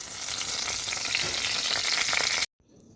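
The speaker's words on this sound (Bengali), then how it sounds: "সবার আগে দিয়ে দেবো শুকনো লঙ্কা তিনটে শুকনো লঙ্কা ভালো করে ভেজে নেব।" Three dried red chillies frying in hot mustard oil give a loud, steady, crackling sizzle that runs close and unbroken, then cuts off abruptly near the end, leaving only a faint low hiss.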